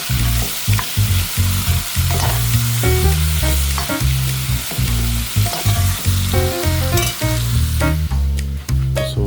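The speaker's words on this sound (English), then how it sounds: "And then we're going to give it a stir." Food sizzles loudly in a pot while being stirred. Repeated scraping and clunking strokes land in an uneven rhythm over a continuous frying hiss, close by.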